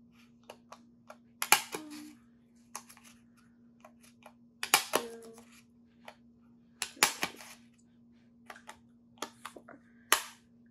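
A handheld hole puncher punches holes in craft material, giving a series of sharp, close clicks and clacks in small clusters with pauses between, over a faint steady hum.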